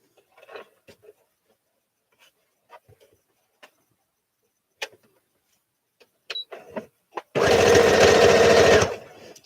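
A domestic sewing machine stitches fabric for a Simplicity S8855 sew-along, a steady loud whirring run of about a second and a half near the end, after scattered small handling clicks and taps.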